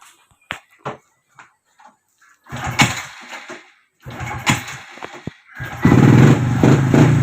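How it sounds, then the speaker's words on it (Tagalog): A motorcycle engine that misfires when its headlight is switched on idles close by, running rough and uneven with irregular pops and sputters. Brief quiet gaps and clicks come before louder stretches of stumbling engine noise. "Pag binuksan ang ilaw, so ayan, palyado na siya."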